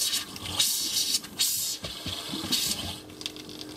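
Water mixed with pink antifreeze pushes out of a Passport 217 RV's cold water line during winterizing, giving an uneven close gurgle and sputter with bursts of spitting air and liquid.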